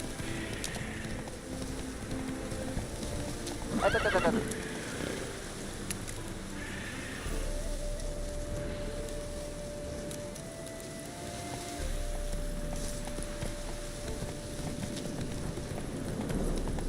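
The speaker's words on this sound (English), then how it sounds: "Not so fast, Roach." Roach the horse galloping in the video game The Witcher 3, rhythmic hoof clip-clops running steadily under game ambience with a brief whinny-like burst early on, moderately faint throughout.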